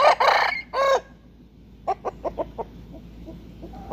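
Loud rooster crowing opens with two strong bursts, then after a pause a rhythmic run of five or six short clucks from chickens, closer and distinct, with a quieter call trailing at the end.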